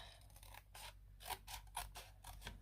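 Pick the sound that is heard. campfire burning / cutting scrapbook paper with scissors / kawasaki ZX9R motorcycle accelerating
cutting scrapbook paper with scissors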